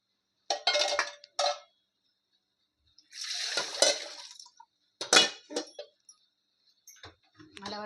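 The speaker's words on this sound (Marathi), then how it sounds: "मसाल्याचं भांडं धुवून घेते आणि ते पाणी सोडते" A metal masala pot clinks and clanks while being rinsed with water, in short separated bursts, close up, with no talking.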